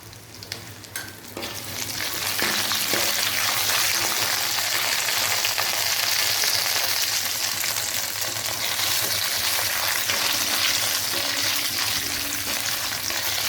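Cumin seeds and cashews fry in oil in a pan for traditional rice pongal, giving a continuous dense sizzle and crackle that holds steady from near the start, close up and with no talking.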